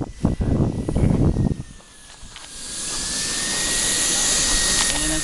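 A Falcon 120 model jet with a JJ1400 turbine comes in to land, its turbine rising to a steady, loud whine with a sustained whooshing roar. Voices and handling noise are heard close by at first.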